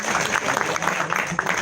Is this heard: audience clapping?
yes